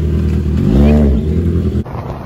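A Kawasaki Z900 motorcycle engine idles and revs up loudly nearby, its rumble swelling then dropping back, then cutting off abruptly.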